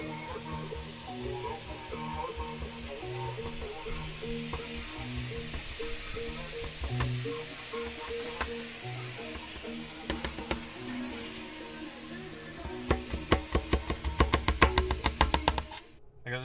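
Singleton's bacon frying in a pan, a soft steady sizzle running throughout, with a burst of clicks and knocks near the end.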